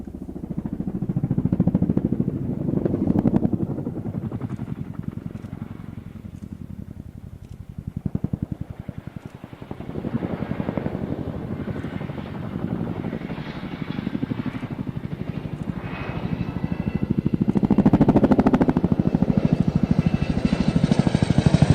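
Chinook helicopter in flight: a rapid, pulsing rotor thud with engine whine that fades and swells as it passes, loud and fairly close, with no talk.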